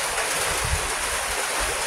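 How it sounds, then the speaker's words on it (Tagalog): Rain pours down in a close, continuous broadband hiss with a low, rumbling wash underneath and no voices. "At ngayon nga po, umuulan."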